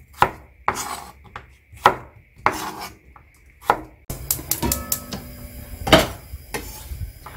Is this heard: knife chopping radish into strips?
yes